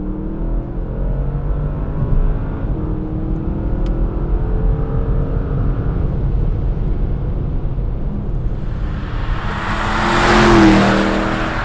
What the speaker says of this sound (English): Exhaust sound can be heard outside